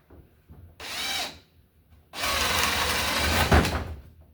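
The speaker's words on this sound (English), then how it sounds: "Drill our hole to bring our wire through right in the middle here." A power drill spins briefly, then bores steadily into a wooden board for about two seconds with a grinding whine, loud and close.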